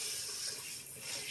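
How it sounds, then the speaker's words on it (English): Water from a kitchen faucet sprays steadily over sunflower shoots in a salad spinner, a close, continuous hiss without a break. "So Steve, if you just want to spray them off with the faucet"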